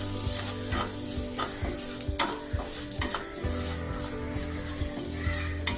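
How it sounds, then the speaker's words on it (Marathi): Onion sautéing with turmeric, chili powder and garam masala in a pan, a steady close sizzle broken by repeated scraping stirs of a spoon, heard alone without talk. "हळद घालूया, मिरची पावडर, गरम मसाला थोडा परतून घेऊया"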